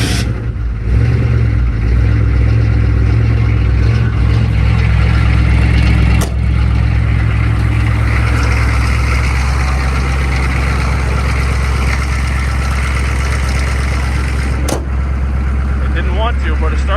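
Duramax diesel pickup in a single-cab build cranking and then catching, settling into a loud, steady close-up idle with a couple of sharp clicks.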